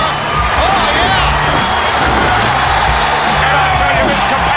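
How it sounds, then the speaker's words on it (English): A capacity wrestling arena crowd in the WWF No Mercy video game cheers loudly and continuously during a steel cage match, a dense roar of shouts and whoops with scattered voices rising above it. "this capacity crowd is going crazy for these guys. Many are standing and cheering."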